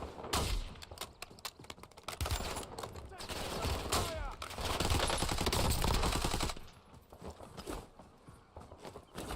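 Automatic gunfire in the shooter game Warzone, rapid bursts and scattered shots crackling over a busy battle soundscape, loud in the middle and thinning out near the end, with a voice talking at times.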